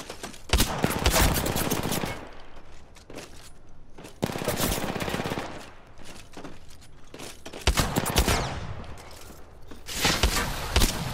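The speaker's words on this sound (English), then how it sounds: "Listen up, I'm getting shot at." Rapid automatic gunfire in Apex Legends aimed at the player, dense bursts of shots in several waves separated by brief pauses, loud and close with no talk over it.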